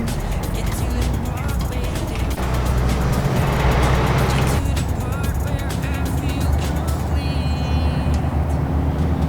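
A heavy truck pulls away in second gear in Euro Truck Simulator 2, its engine droning steadily and loudly throughout, with faint chatter over the top.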